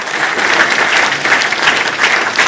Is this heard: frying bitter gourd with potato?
no